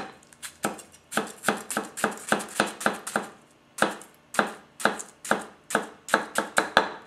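A Tetsuhiro Handhammer White #1 240 mm gyuto cuts through an onion on a cutting board, a rapid run of crisp chops in steady rhythm with a brief pause midway, close and clear.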